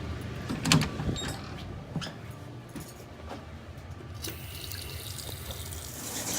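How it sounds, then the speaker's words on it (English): Water runs steadily from an opened sink tap, bleeding air from a hot water tank, with a hissing flow, getting brighter and stronger partway through, plus a few small clicks and knocks. "Opening a sink valve somewhere in the house to allow air to escape from the hot water tank"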